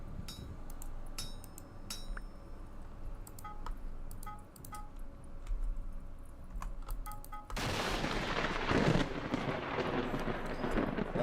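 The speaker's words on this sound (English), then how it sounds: "Thunder and lightning," Thunder in the Vintage Story video game: scattered sharp clicks and taps at first, then a sudden loud, broad crash that keeps rumbling through to the end, with no talking.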